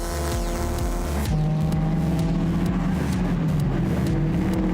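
Period saloon cars, a Ford Prefect leading a Ford Anglia with a Ford Escort close behind, race into a final turn; engines drone and shift loudly close by, with a sharp change in pitch partway through and no talking.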